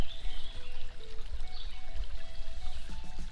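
Water pours and trickles steadily through a gold prospecting sluice outdoors, a continuous close rushing wash with faint knocks near the end.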